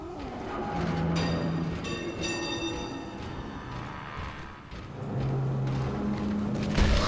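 A tram system powers back up in Dead Space, with a mechanical rumble, hum and clanking machinery, steady tones rising and falling as rail equipment starts up, and a heavy thud at the end.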